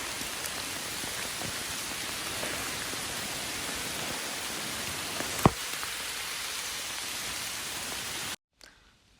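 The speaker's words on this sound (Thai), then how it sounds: "เพราะว่าฝนมันตกแห้งมา" Steady outdoor rainfall, a dense even hiss of drops with one sharp tap midway, running unbroken for several seconds before cutting off.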